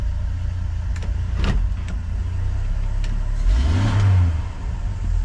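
A 1981 Ford car engine idles a little high, then revs up and settles back once, loud and close throughout.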